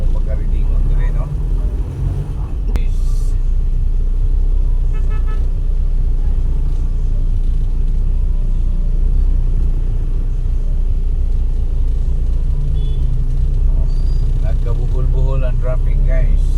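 Road traffic jam on the way to Mangga Tubod, Iligan City, with a continuous engine rumble from cars, trucks and buses and occasional brief clatters, heard from inside a vehicle for the whole clip.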